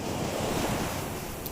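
Sea waves roll and break continuously against the shore, a dense, steady wash of surf mixed with wind buffeting the microphone, loud and close with no voices.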